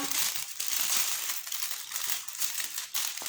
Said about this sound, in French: je me permets de faire un peu de bruit pour remettre le papier en place